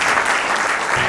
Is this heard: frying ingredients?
no